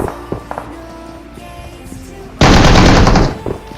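Gunfire in PUBG Mobile during a final-zone fight at Yasnaya: after a stretch of quiet clicks and light taps, a sudden loud burst of rapid automatic fire lasts about a second before cutting off.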